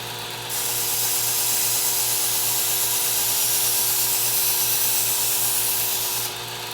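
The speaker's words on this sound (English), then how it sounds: "I'm going to turn this machine down at the slowest speed so that I'll deburr" A Work Sharp Ken Onion knife sharpener runs at its slowest speed with a steady motor hum and a grinding hiss. It sits close and continuous, with the hiss strengthening as the blade makes contact before easing off at the end.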